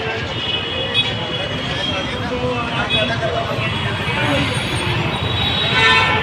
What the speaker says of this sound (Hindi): लुधियाने का ट्रैफिक चेक करो